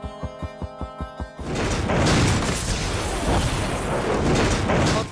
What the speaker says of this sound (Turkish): Düğmeye basıyor ve sıkışan gaz bomba gibi patlıyor.